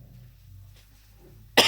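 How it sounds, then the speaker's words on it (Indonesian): A preacher in a church gives a sudden sharp cough after a quiet pause, a short loud burst close to the microphone. "Saya tidak tahu kenapa saya batuk-batuk khotbah di sini."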